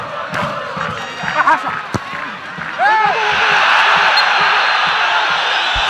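A football stadium crowd at a Copa Libertadores match between Cerro Porteño and Santo André roars and shouts in a dense, sustained swell, with whistles and commentary heard over it early on.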